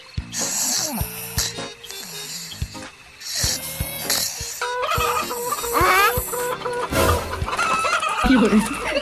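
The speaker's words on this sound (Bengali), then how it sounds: "এত রাতে মুরগি চিল্লাচ্ছে কেন" Chickens squawk and cluck loudly in a henhouse at night, with sharp agitated bursts and scattered clattering knocks. Voices and movement mix in close by as the commotion builds.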